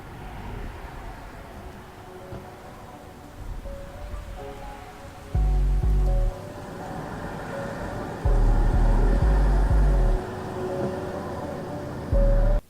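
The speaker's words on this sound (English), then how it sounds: "here it is with our song, our parking lot sound effects, our rain sound effects" Steady rain and ambient parking lot sound effects layered under a music track, with low thumping beat sections and tonal lines running throughout, fairly loud and dense.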